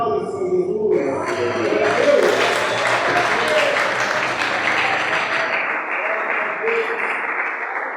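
Steady applause from a church congregation fills the room, sustained and full for several seconds before tapering slightly at the end, with some voices mixed in.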